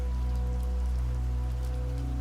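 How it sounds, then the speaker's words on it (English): Rain pattering steadily on old cottage window glass, a dense, even wash of drops over a low constant hum that holds at the same level throughout, with no talking. "the rain on the glass"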